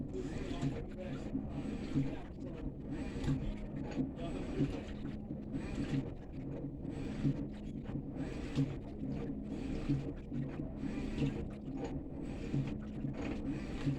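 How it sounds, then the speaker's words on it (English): A GE washing machine agitating a load of clothes, including a jacket: a steady, rhythmic churning with repeated swishing surges, heard close and moderately loud throughout. "Now it's agitating. And now it's getting the clothes much cleaner."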